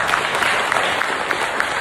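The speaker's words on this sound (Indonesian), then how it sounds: "Tepuk tangan untuk mahasiswa." An audience gives a short burst of dense applause for students at a public event, steady, close clapping with a faint crowd murmur beneath.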